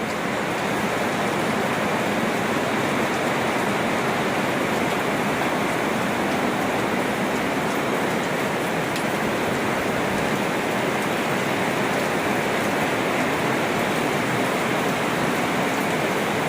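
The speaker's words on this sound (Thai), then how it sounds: "ฝนตกแรง" Heavy rain pours steadily and loudly, a dense unbroken hiss that fills the whole stretch with no voices.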